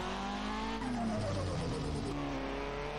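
A modded car engine in the video game GTA San Andreas revs and slides, its harmonic whine rising and falling with tire squeal and skidding, loud and steady with no talk.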